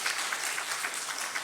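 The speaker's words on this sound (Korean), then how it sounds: "감사의 박수가 있습니다" A church congregation claps in thanks during a Sunday service, steady dense applause from a large crowd that carries on throughout.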